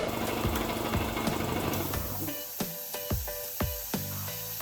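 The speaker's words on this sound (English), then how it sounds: "I'm gonna fire this thing up and get a little bit of pressure in here" A loud, hissing air compressor pump runs steadily with rapid thumping pulses, growing more rhythmic and chugging toward the end, building pressure with a leaking check valve.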